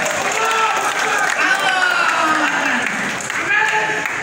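Loud crowd applause at a political party inauguration event, continuous clapping with cheering and overlapping voices from the audience close by.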